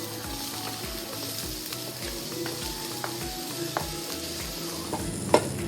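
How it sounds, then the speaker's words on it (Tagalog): Onions being stirred and sautéed with ground pork in a pan give a constant low sizzle with faint scattered clicks and scrapes of a utensil, ending in one sharper scrape, close and even in level. "Ihalo na ang sibuyas."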